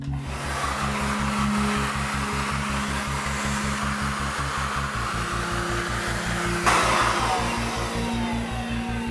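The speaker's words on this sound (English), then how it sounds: "Get your vacuum cleaner, probably put the brush bit on the end." A household vacuum cleaner fitted with a brush attachment, used to dust a model railway, runs as a loud, steady motor drone throughout with no talk. Its tone shifts slightly partway through, then a brighter, harsher rush of suction cuts in near the end.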